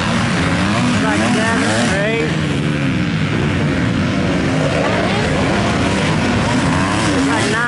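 Orange KTM dirt bikes race past one after another at a dirt track, their high, buzzing engines rising and falling as each passes fairly close, with someone talking over the noise.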